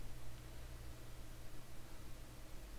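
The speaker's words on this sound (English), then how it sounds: "Next, I airbrush the panel lines." An airbrush sprays paint along the panel lines of a model industry base, a faint, steady airy hiss that continues without a break.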